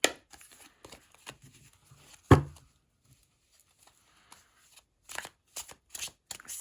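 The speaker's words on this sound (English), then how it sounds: "They shuffle overhand really nice." Sealed Path tarot cards with flexible, smooth semi-gloss cardstock being shuffled overhand, giving short papery riffling bursts with pauses between them, close up and without talk.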